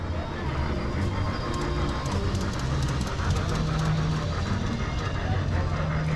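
Small trains rumble around a little track in a video game, a steady rolling clatter with faint rhythmic clicks, continuous and moderately loud throughout.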